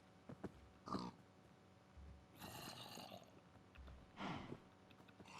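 Pigs in the Minecraft video game give two short snorting grunts a few seconds apart, faint and close, with a soft rushing game sound between them and no speech.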